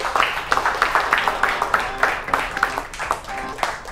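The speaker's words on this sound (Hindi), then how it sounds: "तालियां गाइस।" A small group claps together indoors, a quick run of uneven, overlapping handclaps lasting a few seconds, fairly close and lively.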